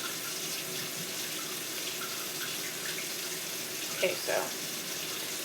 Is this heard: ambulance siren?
no